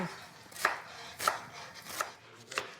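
A knife chops onions and green pepper on a board in a kitchen, four distinct evenly spaced cuts with crisp thuds, close and fairly quiet, without any talking.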